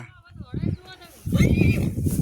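A horse in a farm field gives a short whinny, followed by rougher snorting and hoof-like thuds, heard close by while a person talks over it.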